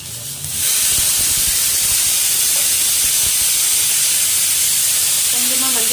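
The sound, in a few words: green chillies sizzling in hot coconut oil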